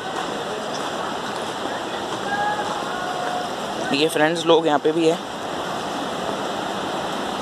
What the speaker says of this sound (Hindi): यहाँ पे भी अब देखिए रिवर जा रही है